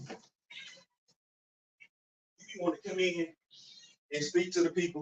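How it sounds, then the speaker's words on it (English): A pet cat meows indoors, several insistent vocal calls breaking in and out among a person's speech, close and fairly loud. "That's the cat."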